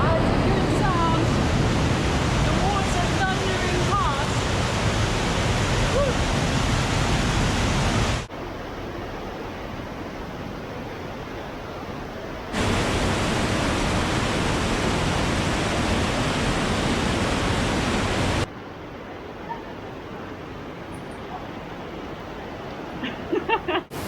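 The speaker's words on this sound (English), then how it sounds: "That's a good sound. The water" Roaring water rushing through a mountain gorge on the Zugspitze via ferrata, a loud, dense broadband wash that drops in level at two points and then returns, continuous with no pauses.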